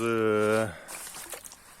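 Hot water draining by gravity out of a pool heater's coil after the pump has shut off, a steady wet rushing and trickling that follows a brief voice and continues alone at moderate level.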